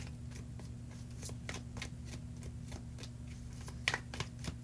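Tarot cards are shuffled over and over in a quiet room during a live reading. The soft riffling and flicking comes in a steady, fairly faint rhythm over a low hum, with one sharper snap near the end.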